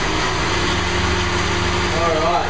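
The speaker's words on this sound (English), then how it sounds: "So we'll blend for 20 seconds, excuse the noise." A countertop blender whirs steadily while blending a chocolate choc chip smoothie with cacao nibs, a loud, continuous motor drone held close for the whole stretch.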